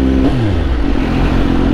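Road traffic with motorcycles and cars rumbles close and loud, with an engine revving and shifting pitch while the rest of the traffic drones on.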